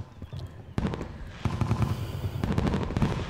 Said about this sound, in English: let's watch the fireworks, guys.